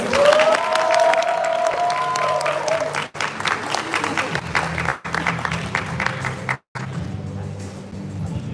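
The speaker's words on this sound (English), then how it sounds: "let's give them a round of applause" Audience applause for contestants at a speech competition, dense clapping from a crowd that carries on steadily, briefly cut off in places, with some talking mixed in.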